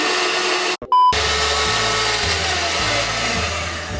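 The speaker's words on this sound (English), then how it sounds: "You're gonna start beating the egg until it gets really foamy." An electric mixer whips eggs until foamy for chile rellenos, a steady close whirring drone with a brief dropout near the start.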